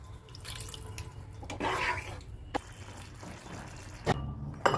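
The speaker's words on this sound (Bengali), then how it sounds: "এবার হালকা একটু জল দিয়ে দিব" A little water is poured into a pan of mushroom masala curry, making a soft, brief trickling splash with a few sharp clinks from the pot.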